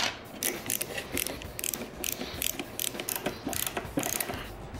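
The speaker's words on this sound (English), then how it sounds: "I guess it would help if I had a screwdriver." A screwdriver turns screws on a grip box, producing repeated quick ratcheting clicks in uneven bursts, close but fairly quiet, with no talk.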